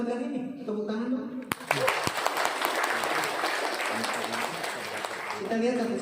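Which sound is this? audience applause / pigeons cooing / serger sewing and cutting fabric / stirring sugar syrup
audience applause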